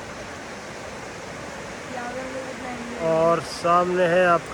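Sisu waterfall in the Himalayan valley, a steady broadband rush of falling water filling the scene, with someone talking over it in the latter half.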